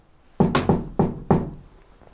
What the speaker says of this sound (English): Maybe if I knock on the door,